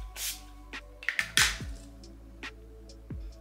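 A couple of quick, soft hissing spritzes from a hypochlorous acid facial spray bottle, brief and close, with small handling clicks around them.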